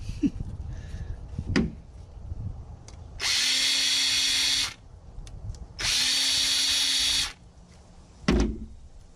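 Power drill backing screws out of a circuit board, two loud sustained whirring runs of about a second and a half each, separated by clicks and handling noise.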